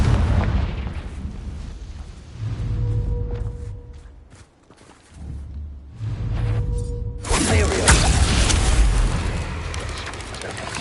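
A Confringo spell goes off in the Hogwarts Legacy video game, a roaring fiery blast with crackling bursts over game ambience, dipping briefly before a second loud eruption surges and sustains.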